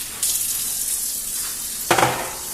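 Bagged cabbage sautéing with added water in a pan gives a steady, close sizzle, with a louder burst of hissing near the end as more liquid hits the hot surface.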